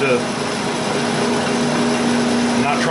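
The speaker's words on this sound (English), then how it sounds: "just barely touching with a scraper. I want to pull off the high spots." A scraper lightly skims a spinning microwaved ash bowl on a wood lathe, taking off high spots. A steady motor hum runs under a continuous soft hissing scrape, close and fairly loud.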